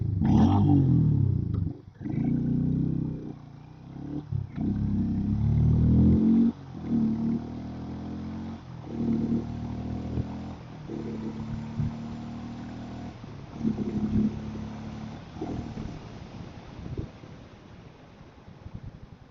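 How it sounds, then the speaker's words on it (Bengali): Harley-Davidson X440T motorcycle engine on a test ride, a loud low rumble that surges through several throttle bursts with brief dips, then settles into a steadier, quieter drone. "চলুন এবার তাহলে প্রথমে পাওয়ারটা টেস্ট করে নিই হার্লে ডেভিডসনে"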